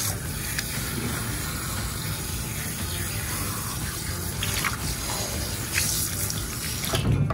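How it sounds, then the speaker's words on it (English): Running water pours steadily as conditioner is rinsed out of textured hair, a continuous close hiss and splash of tap flow with slight shifts in spray near the end. "as I rinse it, it gets a little more clear"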